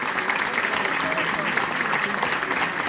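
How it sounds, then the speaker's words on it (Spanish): An audience applauds a dance group at a community event, with dense, steady clapping close up that fills the whole stretch without a break. "Un gran aplauso,"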